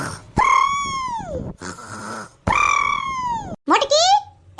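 A heavyset woman snoring loudly, comically exaggerated like a voice imitation: two long, wavering nasal snorts, each followed by a raspy rattling breath, then a quick rising whistle.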